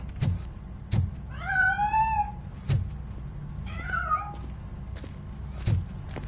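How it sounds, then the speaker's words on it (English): Cat from the game Robocop: Rogue City meowing twice in drawn-out, wavering cries as it escapes, with dull thumps and low background hum in between. "That cat must be hiding inside."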